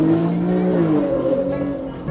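A two-door car accelerates hard with the throttle pushed to the floor, its engine drone holding a close, loud, slightly rising pitch through a short burst.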